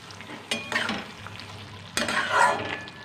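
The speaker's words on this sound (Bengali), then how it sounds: "এই মাছটা একটু ভালো করে মিশিয়ে" Small mourola fish are stirred in a spicy curry in a hot pan, with two bursts of scraping and sizzling, one near the start and a louder one about two seconds in, all close with no talking.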